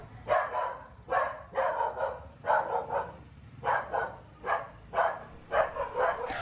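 A small dog barks repeatedly, about ten sharp barks in an uneven rhythm, fairly close, with quiet background noise between them.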